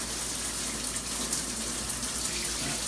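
A newly fitted shower head and hose spray water with strong pressure, giving a steady, broad hiss of rushing water close by with no talk over it.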